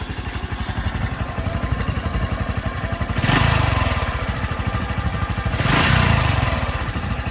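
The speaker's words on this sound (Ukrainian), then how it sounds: "ідеальна робота двигуна, ніяких абсолютно питань" A 2016 fuel-injected Honda Cross Cub 110 scooter idles close up with a steady, rapid single-cylinder putter. The revs swell twice with throttle blips, then settle back to idle.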